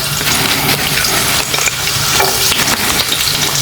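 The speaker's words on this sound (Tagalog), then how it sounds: "So ito, mainit na nga mantika. So lagyan lang natin ng ating bawang." Garlic dropped into hot cooking oil sizzles and fries loudly and steadily, a dense close crackle with faint stirring, no talking.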